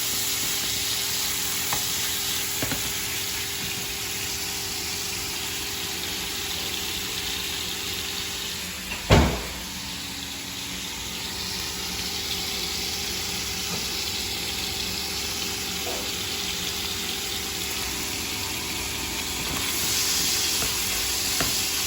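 Speck fries in a pan with a steady, broad sizzling hiss that holds evenly throughout, broken once by a single sharp knock partway through, close and fairly loud.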